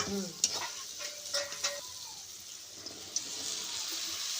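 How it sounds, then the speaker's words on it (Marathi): Okra tossed into a kadhai of frying chillies, likely over a wood-fired village stove, giving a steady sizzle with a few clattering stirs and scrapes early on, then softer frying. "सर्व भेंड्या प्लेटमधल्या कढईमध्ये टाकल्या"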